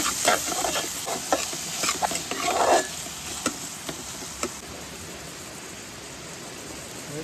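Onion, garlic, curry leaves and tomato stirred together in a pan at an outdoor camp cookout for a crab dish: a soft, low sizzle with a run of light spoon scrapes and taps that thin out toward the end.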